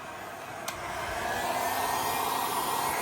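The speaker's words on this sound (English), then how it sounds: "Now I'm going to get my heat gun, I'm going to blow it and see what happens." A heat gun blows hot air in a steady, close whooshing roar that swells up after a brief click at the start.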